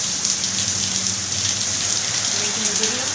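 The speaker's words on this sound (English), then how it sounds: "this is a nice light summer rain" Light summer rain falling steadily in Puerto Vallarta, a continuous soft hiss with a low hum in the background.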